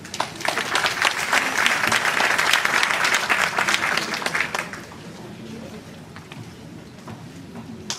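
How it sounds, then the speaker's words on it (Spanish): An audience at an education event applauds with dense, loud clapping that fades after about five seconds into a quieter room murmur. "Un aplauso para ella."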